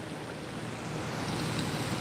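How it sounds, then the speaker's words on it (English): Strong wind gusting steadily across a lake bank, a loud, continuous broadband roar with rumbling buffeting against the microphone and no voices. "But it's super windy."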